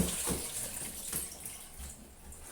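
Water drains steadily from tomatoes held in a strainer during tomato jam making, a soft continuous splashing and trickling close by, quiet with no talk.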